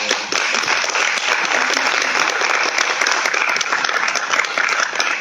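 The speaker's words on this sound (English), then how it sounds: "So I think they deserve a bit of applause." Dense, sustained applause from a roundtable audience, many hands clapping together in a loud, steady wash of sound that starts abruptly and holds evenly throughout.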